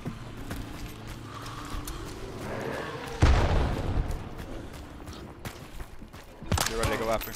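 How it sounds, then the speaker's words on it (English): A grenade goes off in the video game Hunt: Showdown, one sudden loud blast about midway that rumbles out over a few seconds, amid other game noises and players talking. "Yep, throwing a grenade."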